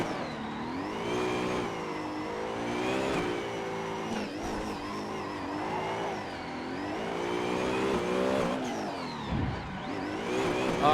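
A drifting car in the racing game Assetto Corsa, its engine revving and wavering up and down continuously, with tires sliding and a sharp skid burst near the end, loud and close throughout.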